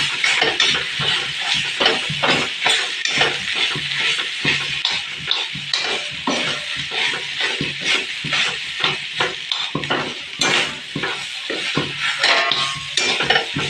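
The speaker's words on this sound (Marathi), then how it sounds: "त्याच्यामध्ये टाकून घ्यायचं मक्याचं पीस खूप छान असं परतून घ्यायचं" Corn pieces stir-fried in a pan, a loud continuous sizzle broken by rapid scraping strokes of a utensil against the pan, rhythmic and close throughout.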